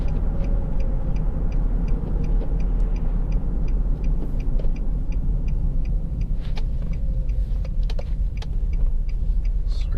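Cabin of a 2008 Nissan Qashqai 1.6 Tekna 2WD five-door on the move, with a steady low road rumble and engine drone throughout and faint ticking clicks above it, no talk.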